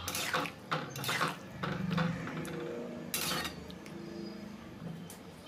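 A spoon scrapes and clinks around a pan while potol and potato curry is stirred and mixed, several bursts of metallic scraping over a soft bubbling background, nearby and moderately quiet.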